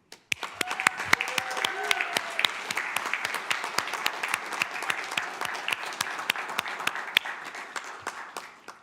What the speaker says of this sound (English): let's give a huge round of applause to our San Mateo Little League American